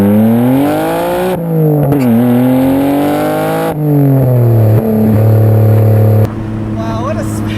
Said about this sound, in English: I'm gonna leave you guys with one last little acceleration here.